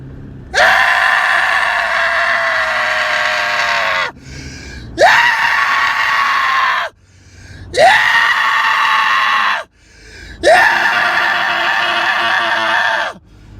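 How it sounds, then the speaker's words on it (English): A man screams while driving his car: four long, loud, strained yells, each several seconds, separated by brief pauses with faint car interior noise, very close to the listener. "I just drive around my car and I scream."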